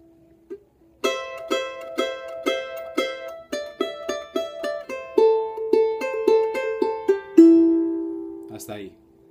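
A charango plays a melody as a steady run of bright plucked single notes, rhythmic and close, ending on a sustained note followed by a brief strum.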